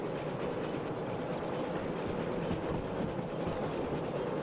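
A locomotive runs in the Derail Valley train simulator, a steady dense rumble and rolling rail noise that stays even and moderately loud throughout, with no voices.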